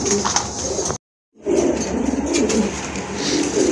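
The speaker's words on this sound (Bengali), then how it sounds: "খুবই সুন্দর ভালো মানের এক জোড়া কবুতর" Pigeons coo softly and repeatedly at close range, a pair of good-quality birds offered for sale among others in a market. The sound cuts out briefly near the start, then resumes.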